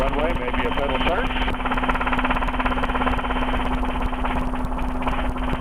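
Rotorway helicopter hovering over a runway, its engine and rotor droning steadily and loud throughout with a strong constant hum and rapid rotor pulsing, while radio voices talk over it.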